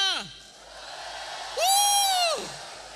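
Youth crowd at a regional church youth jamboree opening in South Sumatra shouting and whooping in reply to a call from the stage, a rising collective yell after a fading voice, fairly loud and reverberant.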